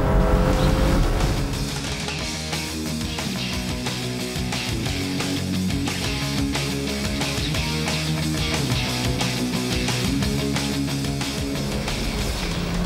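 A 3.2-litre six-cylinder car engine revving hard at full throttle, a dense, rising mechanical roar that holds loud and steady throughout.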